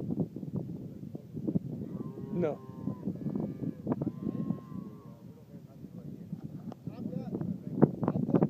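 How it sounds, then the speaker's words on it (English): Young F1 Braford cows mooing in a pasture, several overlapping low moos and calls from a herd at moderate distance, with someone talking intermittently over them. "Another very nice group of these young F1 cows."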